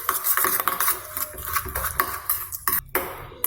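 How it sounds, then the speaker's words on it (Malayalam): Garlic porotta dough ingredients are mixed by hand in a bowl, making soft, irregular rubbing and scraping sounds that are close and fairly quiet, with brief pauses near the end. "ഇതെല്ലാം നന്നായി മിക്സ് ചെയ്യുക."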